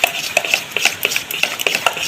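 A spoon stirs khatta dhokla batter mixed with turmeric in a bowl, making close, rhythmic clinks and scrapes at a brisk, uneven pace, with no talking.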